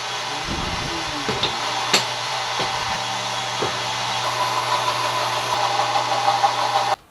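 A belt sander chamfers the edge of a wooden boat part during a boat restoration, giving a loud, steady motor whine with broadband grinding that runs for about seven seconds before cutting off abruptly.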